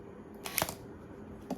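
A DSLR camera with its flash on fires a single quick mechanical shutter click, faint and close against a low background hum, followed by a softer second tick.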